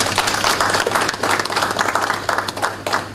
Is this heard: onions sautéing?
no